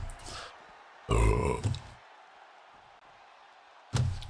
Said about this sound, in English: I apologize for my belch.